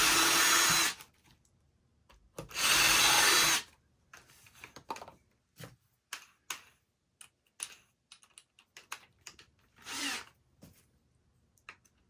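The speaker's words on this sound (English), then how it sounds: "I'm going to drill a couple of holes for mounting" A power drill bores mounting holes in wood, two loud sustained bursts of whirring followed by softer intermittent clicks and handling noises, close and otherwise quiet.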